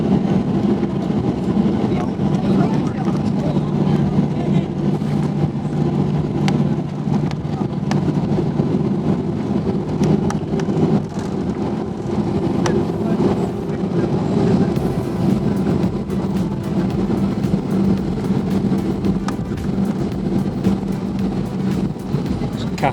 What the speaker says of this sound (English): listen to the purr of them CFM 56-7B engines